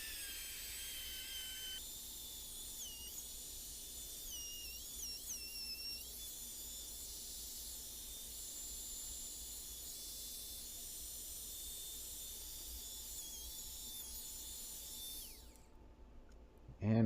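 Power saw or router cutting through an MDF subwoofer baffle for a DIY home theater sub, a steady loud hissing whine that runs unbroken for about fifteen seconds before stopping abruptly.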